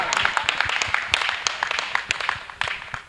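Women at a gathering clap together in quick, uneven bursts, a busy patter of many hands close by that runs throughout with faint voices underneath.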